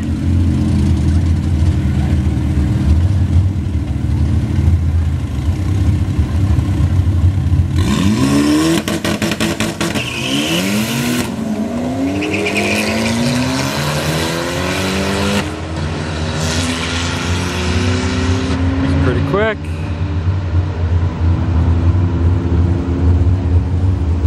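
Hot rod drag race cars rev their engines at a Friday night test and tune session, with loud, continuous engine roar, revs rising and falling, and cars passing at close range, no talking.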